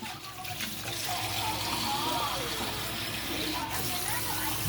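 Water poured from a container into a cooking pot of paksiw seasoned with white vinegar, a steady splashing, filling rush close by, running continuously for several seconds.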